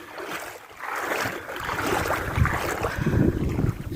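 A single-engine fishing boat runs with a steady rumbling drone mixed with wind and water noise, close and moderately loud.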